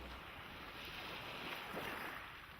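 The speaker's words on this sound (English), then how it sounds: "Then I lie back, listen to the waves" Ocean waves washing onto a shore, a faint, steady distant roar of surf with a gentle swell in the middle, no voices.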